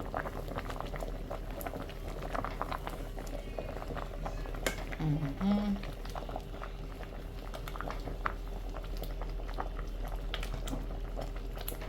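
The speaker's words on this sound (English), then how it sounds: "Nice butter bubble." Butter bubbling and crackling in a hot all-purpose pan, a steady close simmering fizz with tiny pops, a brief muffled voice passing underneath.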